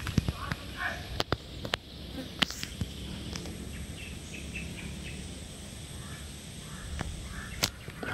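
Several short, sharp crow caws ring out intermittently over a steady outdoor background of insect buzz and low rumble, with a couple of louder calls standing out.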